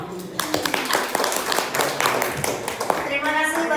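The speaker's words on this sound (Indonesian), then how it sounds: "Tepuk tangan untuk Bapak Ari." An audience at a public speaking training event claps for a speaker, scattered hand claps rising into moderate applause in a room, with voices talking over it.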